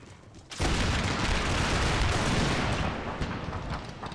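A dense, thunderous musket volley rolls out from massed line infantry in an Empire: Total War battle, erupting suddenly and holding as a long rumbling crackle of gunfire.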